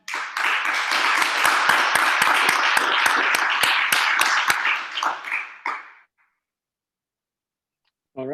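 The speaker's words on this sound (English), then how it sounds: "give a big applause for his session" A burst of clapping from a small conference audience, dense and steady for about five seconds before thinning out and fading to silence.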